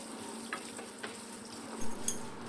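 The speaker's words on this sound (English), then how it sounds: "add in dry red chilies, curry leaves and some asafoetida, that's hing, and roast for a few seconds" Whole dry red chilies, curry leaves and asafoetida roasting in hot oil with cumin, urad dal and chana dal, giving a steady soft crackle with a few small pops and a faint stir near the end, no voices.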